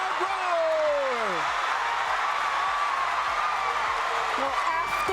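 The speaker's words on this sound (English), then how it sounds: "And listen to this crowd roar!" A volleyball arena crowd roars in a steady, loud wash of noise after a winning point, with a commentator's voice speaking over it throughout.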